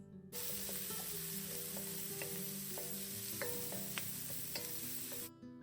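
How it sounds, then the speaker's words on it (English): White onions sauté in butter for Chinese sausage and egg fried rice, giving a steady, soft sizzle with occasional ticks and pops from stirring. It plays alone and starts and stops abruptly. "you're also going to add your white onions, and you want to saute them until they're translucent"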